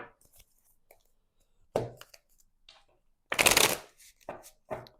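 Tarot cards being shuffled by hand, quiet scattered riffles and taps, then one louder burst of card riffling near the end followed by a few light flicks.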